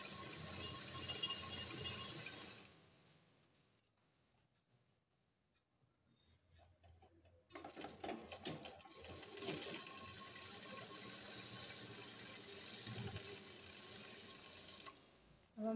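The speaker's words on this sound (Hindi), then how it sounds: "फोल्ड करके इस तरह से हम सिलाई लगा" A sewing machine stitches the hems of a salwar, with a fast mechanical whirring run, a quiet pause, then another long stretch of close, steady stitching.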